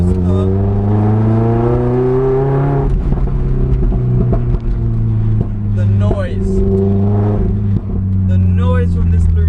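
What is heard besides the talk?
Lotus naturally aspirated engine with Larini exhaust revving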